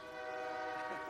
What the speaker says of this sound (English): This is a long train coming too, I think.